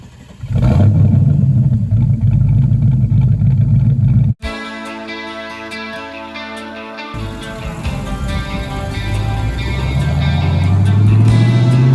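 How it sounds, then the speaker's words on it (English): A deep, throaty V8 engine of a TVR Chimaera 450 rumbles steadily while driving on the road, then shifts tone and climbs as the car accelerates, loud and close throughout. "this sounds like a traditional. Yeah, proper. Sort of grunty V8"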